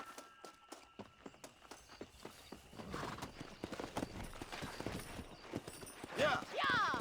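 Rhythmic hoofbeats of a horse galloping in Red Dead Redemption, starting sparse and building into a steady clip-clop run, with a brief whinny near the end under outdoor game ambience.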